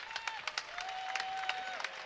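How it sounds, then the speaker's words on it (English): Applause from the Oregon bench and fans at a women's college basketball game against Nevada, a short burst of scattered clapping with some crowd noise, moderately loud and fading slightly. "Claps all around from the Oregon bench and the Oregon fans"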